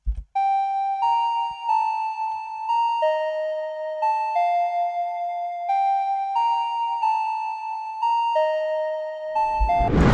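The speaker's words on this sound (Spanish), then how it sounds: "le agregué una campana que la hice con el hub 8 también" Synthesized bell from a preset, layered into a reggaeton beat, plays a clean repeating melody of sustained ringing tones, bright and upfront, with a burst of noise at the very end.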